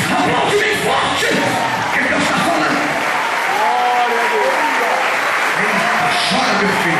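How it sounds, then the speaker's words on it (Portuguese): A church congregation applauds loudly and steadily throughout a worship service, with shouts and a voice speaking over the sustained clapping. "Aplaude bem forte."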